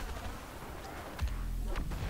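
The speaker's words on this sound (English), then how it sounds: "Ooh, that explosion's there" Explosion in the Star Wars Battlefront beta shooter, a loud booming blast with a low rumbling tail amid ongoing game battle noise, followed shortly by another sharp crack.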